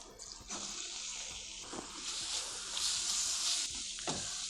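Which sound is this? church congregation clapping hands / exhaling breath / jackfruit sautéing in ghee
jackfruit sautéing in ghee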